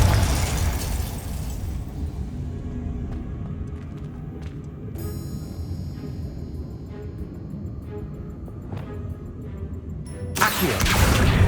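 A Confringo fire spell from Hogwarts Legacy bursts in a broad, loud blast at the start, followed by a sustained rumbling roar with crackling tones, then another sharp explosive burst near the end.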